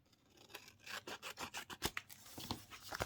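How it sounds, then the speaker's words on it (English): Scissors snip along the edge of a stamped paper greeting card in a quick run of close, crisp cuts, each one a short crunchy rasp, with no talking over them. "then flip it over, and then you can cut the edge here"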